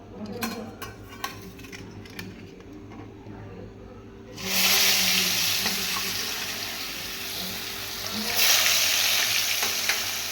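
Paneer cubes drop into hot oil in a kadai and fry lightly, a sudden loud sizzle starting partway through after a quieter stretch, then a steady hiss that swells again near the end.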